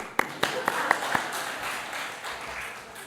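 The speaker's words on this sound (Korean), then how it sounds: "그분도 박수 칩시다" A church congregation breaks into applause, opening with a few sharp, distinct claps that soon blur into a softer, diffuse spread of clapping that fades.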